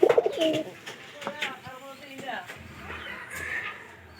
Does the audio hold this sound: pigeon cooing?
yes